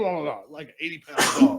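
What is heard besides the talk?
sneeze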